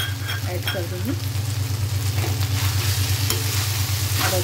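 Chicken fried rice with egg being stirred and tossed in a hot pan, a loud continuous sizzle with scraping and stirring strokes over a steady low hum, close up.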